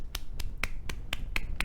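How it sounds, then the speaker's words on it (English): A single person golf claps on a podcast, giving about seven slow, sharp, isolated claps at an even pace, close to the mic, over faint room noise. "Chris golf claps."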